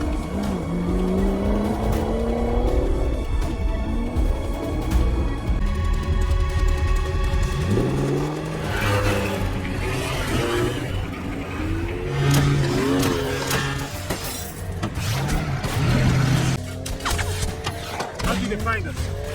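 High-speed car chase with engines revving and accelerating hard, tires squealing and skidding, loud and continuous under dialogue, music and crashes throughout.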